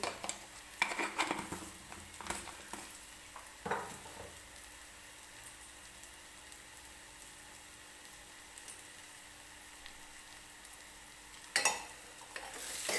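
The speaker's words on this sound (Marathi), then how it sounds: "मसाला वगैरे आपण टाकलेलं आहे ते छान मिक्स करून घ्यायचं आहे" Spices are stirred into a bean curry in a pan, with a soft steady sizzle throughout, a few spoon scrapes and clinks near the start, and another burst of stirring near the end.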